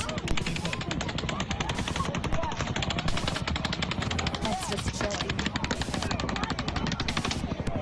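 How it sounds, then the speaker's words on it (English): Rapid bursts of automatic gunfire crackle continuously and loudly, dense and overlapping, during the Las Vegas October 1 mass shooting, while a voice yells "Get down" briefly over the shooting. "Rapid rapid gunfire, someone yelling, "Get down.""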